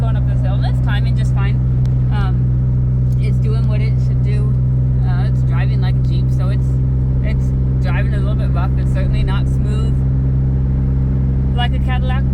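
A 2011 Jeep Wrangler engine pulls steadily in fourth gear, giving a constant low drone with road rumble through the whole stretch while someone talks over it.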